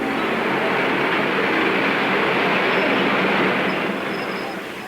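A train arriving in an old radio drama, a broad steady rumble that swells and then slowly fades, with no voices over it.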